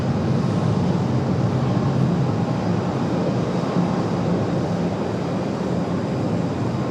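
A Delta airliner arriving from Atlanta at Raleigh-Durham airport makes a steady, loud, broadband jet roar that holds evenly throughout, with no talk.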